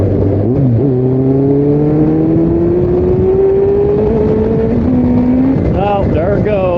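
Used Kawasaki Concours 14 with a slipping clutch revving up through the gears, engine pitch climbing steadily then sagging and flaring again around fourth gear, loud and close.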